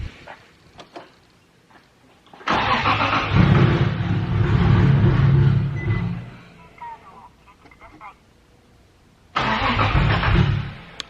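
A Toyota JZX100 with a G25 titanium straight-pipe exhaust cranks and fires on a first start, a loud rough burst that runs several seconds, drops off, then catches again briefly near the end.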